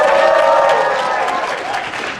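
An audience at an anime convention panel cheers and claps in a dense, loud wash of applause and whoops that fades slightly toward the end.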